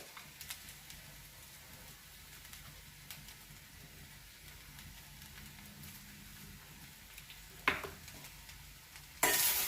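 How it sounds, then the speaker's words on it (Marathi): A wild vegetable mixed with gram flour is stir-fried in a pan, a faint soft sizzle with light scraping stirs and a couple of sharper utensil knocks near the end, and no voice. "चांगल्या पद्धतीने आपण त्याला परतून घेऊया।"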